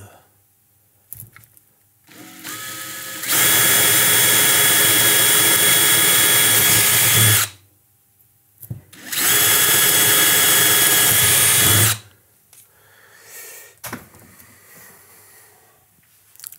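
A power drill bores holes in two long, loud bursts of about four and three seconds, separated by a short pause. Quieter handling noises and brief silence come before and after each burst.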